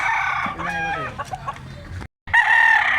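A white-legged bullstag gamecock crows loudly and close by at a morning cockfighting market in Carbon, Cebu, one long crow breaking off briefly before another strong burst, with faint clucking beneath.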